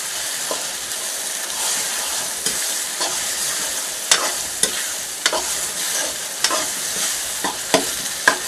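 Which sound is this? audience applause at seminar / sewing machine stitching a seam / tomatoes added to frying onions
tomatoes added to frying onions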